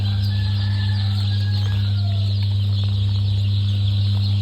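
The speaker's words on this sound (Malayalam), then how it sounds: "കാവേരി മുട്ടക്കോഴികൾ. ഇത് നമ്മുടെ തനി നാടൻ കോഴികളാണ്" Kaveri laying hens and native chickens at a hatchery, scattered clucks and calls over a loud steady mechanical hum, likely incubator or fan noise.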